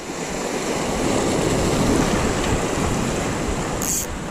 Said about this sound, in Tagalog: Yan na, lakas ng alon.